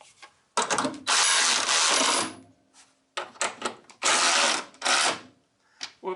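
A ratchet tightens bolts on the shock tower struts of a 1966 Mustang, heard in loud rapid clicking bursts with short pauses between them, close up and with no talking.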